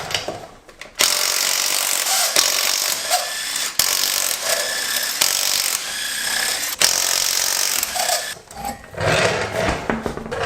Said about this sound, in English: first very simple step here, take your wheel off